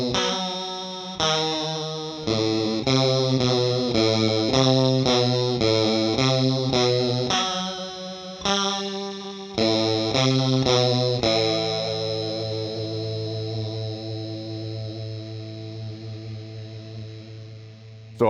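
Electric guitar played through a Source Audio stereo effects pedal, with distorted, chorus-shimmered chords and notes in a choppy rhythmic pattern that ends in one long, ringing sustained chord fading slowly.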